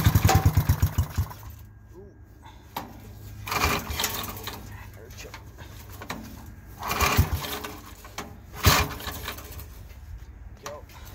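Small lawn mower engine running choked after a cold start, a rapid putter at the opening that settles into an uneven idle with surging bursts, while people talk nearby.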